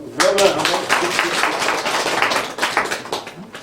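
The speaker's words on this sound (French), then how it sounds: "Si on doit applaudir ça au moins." Audience in a rural Ivorian village applauds with dense, uneven clapping that runs steadily throughout, while a voice talks over it.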